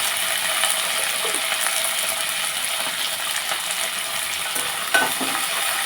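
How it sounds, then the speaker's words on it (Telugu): Sesame seeds being fried and stirred in a pan make a continuous close crackling sizzle with faint scraping, steady throughout with one brief louder clink near the end. "ఇవి బాగా వేగిన తర్వాత నువ్వులు వేసుకున్నాను మనం"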